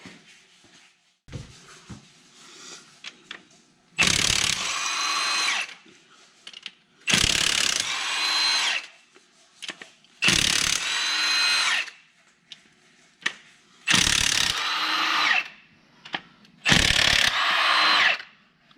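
A ratchet with a swivel loosens the head bolts on a 6.0 diesel engine, giving five or six loud bursts of rapid clicking separated by pauses and fainter handling noises.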